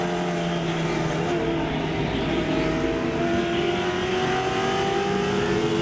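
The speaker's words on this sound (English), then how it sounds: "tight racing right here on the front straightaway." Late model stock cars roar down the front straightaway at Langley Speedway in tight pack racing, a steady loud engine drone with rising pitch across the whole stretch, no voices over it.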